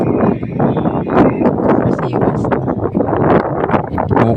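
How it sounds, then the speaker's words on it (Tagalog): Strong, cold wind blows outdoors in Tagaytay and buffets the microphone with a dense, rumbling roar that never lets up. Faint voices sit partly under the gusts. "Wagas-was na yung hangin."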